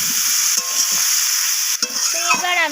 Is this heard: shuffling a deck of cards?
no